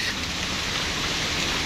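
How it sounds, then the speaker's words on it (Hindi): Steady rain falls on a small island in Singapore, a dense, even hiss of drops close by on surfaces, with no talk. "बारिश"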